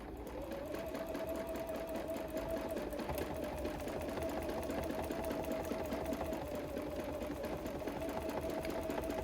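A sewing machine runs continuously while free motion quilting through layers of fabric, a fast steady mechanical hum and needle chatter, faint and unbroken with no talk.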